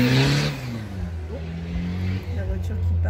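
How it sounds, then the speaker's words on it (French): A car passes by outdoors, a brief loud whoosh at the start that fades into a lingering engine hum, with someone talking over it. "la voiture qui passe"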